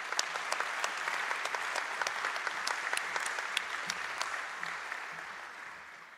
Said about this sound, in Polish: Proszę o wielkie brawa.